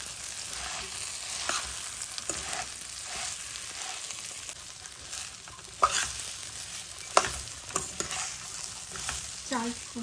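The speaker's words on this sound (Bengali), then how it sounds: "এখন এই সব উপকরণ দিয়ে ভালোভাবে মিশিয়ে নেব।" Spiced ingredients with garam masala powder being stirred and fried in a pan, continuous sizzle with scraping stir strokes and a couple of louder clanks near the end, no talking.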